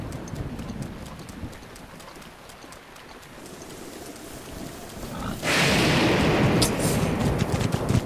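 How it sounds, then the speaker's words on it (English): A lightning bolt strikes close by during a rainstorm in The Legend of Zelda: Breath of the Wild. Steady rain patters, then a sudden loud crack breaks into a roaring, sustained thunder rumble that swells over the rain. "Almost got struck by lightning a third time."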